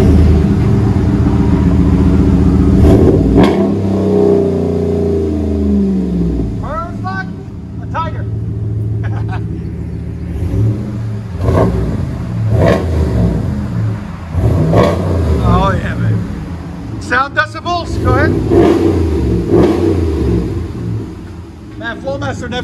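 A 2019 Ram 1500 4x4 with a 5.7L Hemi V8 and dual 3-inch Flowmaster 40 Series exhaust idles with a deep rumble, then is revved several times in loud close bursts while people talk over it.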